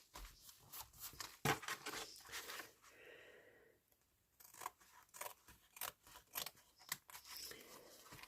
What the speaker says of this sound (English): I'm going to trim that bottom bit because it's just a bit too long.